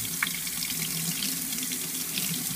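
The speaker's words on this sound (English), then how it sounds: "So we run this water for a minute." Hot tap water runs steadily over a color-change action figure of a ninja turtle, a continuous close hiss and splash from a faucet, alone without talk.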